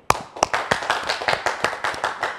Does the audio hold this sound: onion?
no